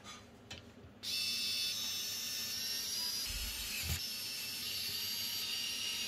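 A Thermalright Aqua Elite AIO liquid cooler's radiator screws are driven in, a close, steady whirring drone running after a soft clunk, with a brief low knock midway.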